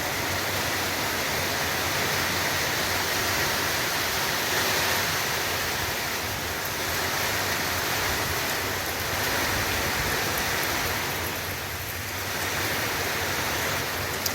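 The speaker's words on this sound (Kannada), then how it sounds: "ಇಲ್ಲಿ ಹೊಡೆದು ಹಾಳು ಮಾಡಿಬಿಟ್ಟಿದೆ ಮಳೆ" Heavy rain pours steadily in a forest, a dense, loud, unbroken hiss of downpour with no voices, swelling and easing slightly over its length.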